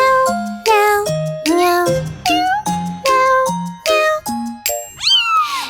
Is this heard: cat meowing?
yes